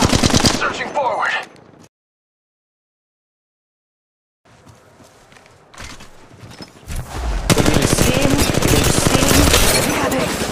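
Rapid automatic gunfire bursts from the mobile shooter Apex Legends Mobile, loud and dense, broken by a sudden silent gap before firing resumes and builds into sustained shooting.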